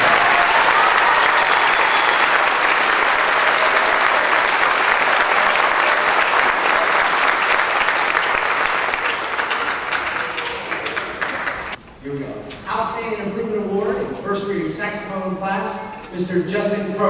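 Loud, sustained applause at a band awards event fills the space, then fades as a voice starts speaking over the last of the clapping.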